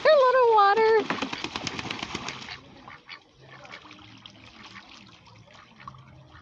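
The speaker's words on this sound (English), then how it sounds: "These are our duckies." Pet ducks quack loudly and close by in a rapid burst near the start, then fall to quieter scattered calls over low murmuring background sound.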